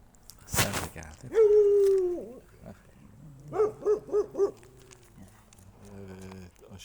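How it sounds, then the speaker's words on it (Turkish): A dog gives a drawn-out whining howl, then a quick series of four yelping barks, followed by softer whimpering, with a sharp knock at the start. "aşağıdan başka köpekler havladı"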